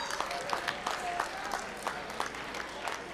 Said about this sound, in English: Applaud your neighbors.